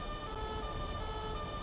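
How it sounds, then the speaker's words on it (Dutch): A fire truck siren in the game GTA 5 sounds as a continuous, steady electronic wail at moderate volume, held unbroken throughout. "Gelukkig zijn de sirenes niet heel hard."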